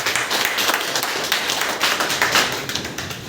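Audience applause at a hotel meeting, dense sustained clapping from a crowd filling the whole moment, steady and fairly loud with scattered sharper claps.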